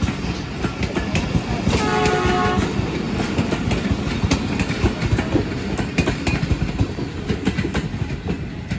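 Badar Express passenger train led by ZCU 20 locomotive passing through Shahdara Bagh Junction in Pakistan, close and loud with steady rumbling and clattering wheels and a short horn blast early on.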